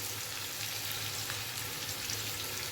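Finely chopped onion fries in hot oil with whole spices for a village-style chickpea curry, giving a steady, even sizzle with no talking over it.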